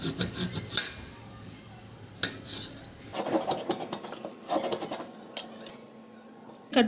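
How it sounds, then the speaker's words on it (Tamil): A knife slices a banana stem into thin rounds, giving a dense run of quick, close scraping and rasping strokes that goes on steadily throughout. "இப்போ மெலிசாக வட்டமாக கட் பண்ணிக்கலாங்க"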